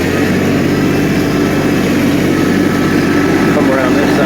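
A tractor engine runs steadily while loading coal, a loud, continuous low drone that holds without a break, with a voice talking over it.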